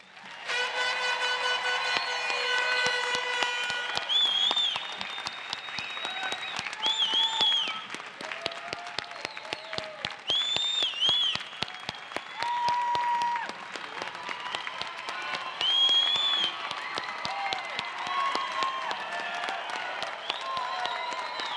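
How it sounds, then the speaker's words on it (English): Sustained applause from a graduation ceremony audience at Sul Ross State University, cheering the new graduates, with dense clapping throughout and musical tones playing over it. "let's have another round of applause for all our new graduates"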